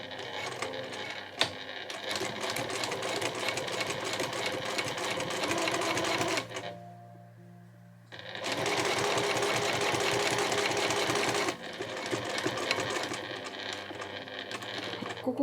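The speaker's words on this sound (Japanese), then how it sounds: "ゆっくり縫っていきましょう。" A sewing machine stitches a two-tone cotton shoulder bag's divider pocket, running in steady, fast needle rattles at close range, pausing briefly for a couple of seconds before resuming and then slowing.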